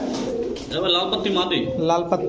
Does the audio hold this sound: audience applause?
no